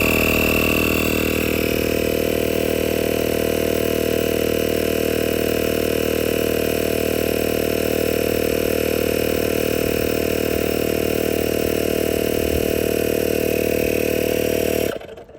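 A Cycplus AL7 portable tyre inflator pumps up a 225/45 18-inch car tyre on a Lexus alloy wheel. It gives a loud, steady mechanical drone with a buzzing hum that runs on unbroken, then cuts off abruptly at the end.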